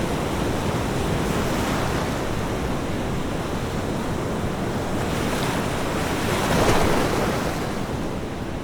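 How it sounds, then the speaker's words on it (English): Surf rolls onto a black sand beach on the Big Island of Hawaii, a loud, continuous roar of breaking waves mixed with wind buffeting, swelling briefly near the end. "Listen to the waves and imagine yourself standing right here as long as you want."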